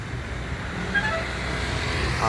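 Road traffic with jeepneys and tricycles passing, a steady mid-distance engine rumble with a faint horn toot partway through.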